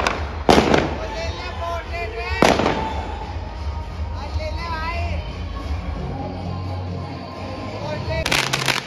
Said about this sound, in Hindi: आतिशबाजी देख लो भाई अब तुम।